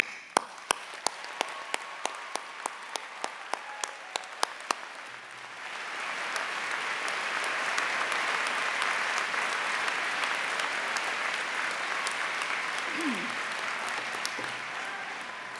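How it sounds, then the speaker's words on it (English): Sparse individual claps at first, then a large audience at a university commencement ceremony breaks into sustained, steady applause that fills the hall for about ten seconds. "I applaud you, thank you,"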